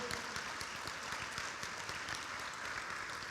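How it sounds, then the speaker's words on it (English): Faint, steady applause from an audience at a high school football hall of fame induction ceremony, a soft continuous patter of clapping heard from a distance. "Nice round of applause for Russell."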